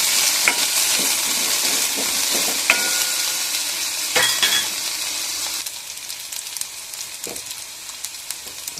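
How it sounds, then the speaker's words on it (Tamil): Star gooseberries sizzle steadily in a pan with occasional scraping and clinks of a spoon stirring, loud and close, no voices. "இப்போ நெல்லிக்காய் 2 நிமிஷம் வேகட்டும். அப்படியே கலப்பாக்கணும்."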